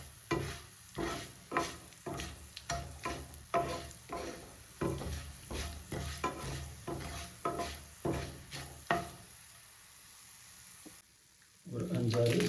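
Fenugreek, peppercorns, coriander seeds and dried round chillies are stirred in hot oil in a pan, with a fast run of rhythmic spoon scrapes over a steady sizzle that stops near the end, followed by a brief low rumble.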